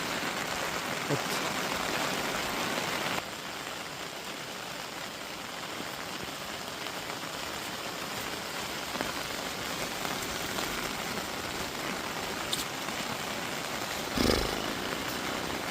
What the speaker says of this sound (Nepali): पानी परिरहेछ।